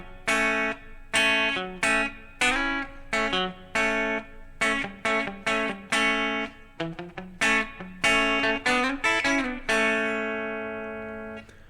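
An electric guitar plays a solo phrase in twangy double stops, with bright plucked pairs of notes in a lively, uneven rhythm, close and clear with no talking.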